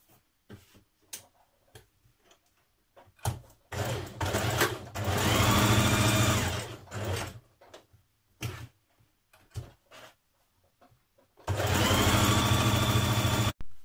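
A sewing machine stitches a facing piece onto a collar in two bursts, a longer run of rapid mechanical whirring and a later shorter one, with light ticks and handling clicks in the quiet gaps between.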